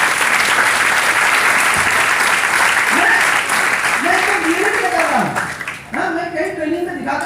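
Loud sustained applause from the audience at a sales training session, dense clapping throughout, with a voice speaking over it in the second half as the clapping fades near the end.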